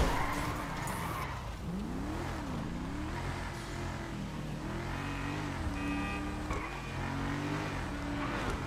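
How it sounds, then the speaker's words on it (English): In GTA 5 Online, a car spins round at right angles, its tires squealing in long, swooping pitch bends as it skids repeatedly over a steady engine drone, loud and close. "that car's just spinning round at right angles"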